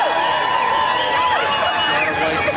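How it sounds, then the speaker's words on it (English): Dense crowd din at the 10th-anniversary Nain Rouge parade in Detroit, a steady roar of many voices with high whistles or horns sliding over it, loud and continuous throughout. "we have never seen a crowd like this"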